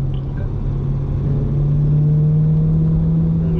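A C8 Corvette engine accelerating in fourth gear on a driving-school track, a loud steady low drone that rises slowly in pitch, heard from inside the car with no talk.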